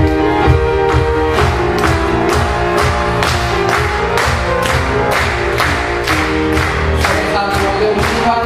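A church congregation claps in strong unison along to a hymn during a Sunday morning service, sharp regular beats over loud singing and accompaniment, steady rhythm throughout.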